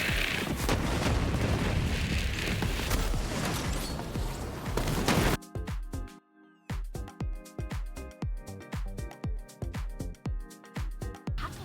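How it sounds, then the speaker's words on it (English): Rocket blasts rip across the map in Borderlands 3, a dense, loud wall of booming explosions for several seconds, then a brief hush followed by a rapid string of sharp, punchy detonations. "it just gets rockets flying everywhere, and you're going to see it just sort of nukes the whole map just by directly hitting one enemy"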